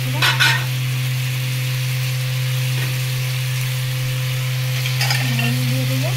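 Boiled vegetables tossed into hot oil with turmeric and spice paste give a loud, steady sizzle, with a few scraping stirs of a spatula near the start and end.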